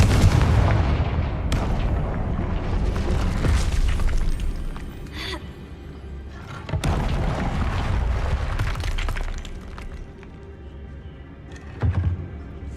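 Explosion spell blasts in the Hogwarts Legacy video game: several deep booming detonations with rumbling tails, spaced across the stretch over a constant low game background.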